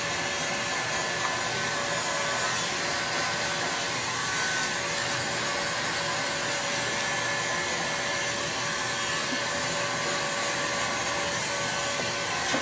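A heat gun or hair-dryer-style blower warming the edge of ClearPlex window protection film runs as a steady, close whoosh of blowing air without a break, and no voices are heard.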